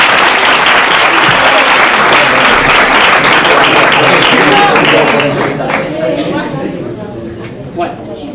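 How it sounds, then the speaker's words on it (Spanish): A room audience claps for a volunteer at a martial arts demonstration, loud dense applause for about five seconds that then thins and fades into scattered claps and quiet room noise. "Un aplauso para él."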